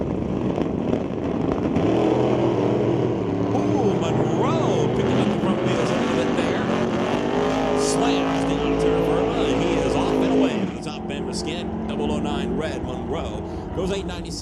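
Drag race between a Ford Model A and a 1977 406 cubic inch small block Chevy: loud, sustained engine roar at the strip for about ten seconds, then easing off, with an announcer talking over it.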